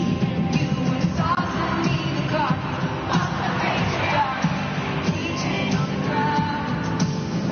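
Concert crowd cheering, a dense roar of yells and whoops from a large audience filling the space continuously, with scattered shouts and bangs rising through it.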